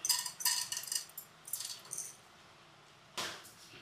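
Mustard seeds, cumin and chana dal tipped into oil in a pan for mint coconut chutney, giving bright scattered rattling and crackling bursts, a pause, then one more short clatter.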